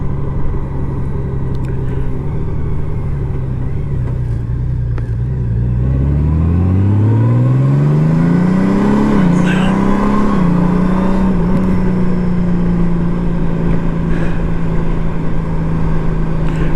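A motorcycle with a DCT gearbox in tour mode pulls away and accelerates through town, its engine note climbing steadily and shifting smoothly, loud and close over steady road and wind noise.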